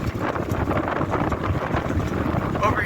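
Steady wind buffets a microphone outdoors, a constant rough roar filling the whole stretch with no pauses.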